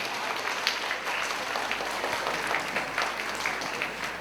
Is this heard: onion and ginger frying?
no